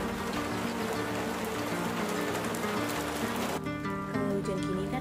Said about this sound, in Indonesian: Hujan nih.